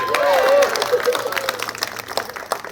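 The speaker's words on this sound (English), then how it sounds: "big round of applause for Tracy." A wedding crowd bursts into steady applause with cheering, loud and sustained, and a voice calls out over the clapping at the start.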